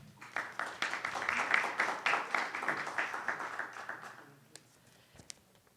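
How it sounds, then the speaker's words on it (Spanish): Audience applause after speakers are introduced at an academic seminar, a dense patter of many hands clapping steadily for about four seconds, then tapering off into scattered claps and quiet. "Un aplauso para ellos, por favor."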